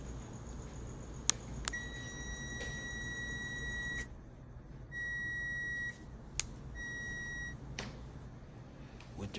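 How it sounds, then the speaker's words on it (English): Multimeter continuity beeps while testing a new electric dryer thermal fuse: a few short electronic tones, one longer steady beep among them, clear and close over a low background hum. "Here we hear a beep."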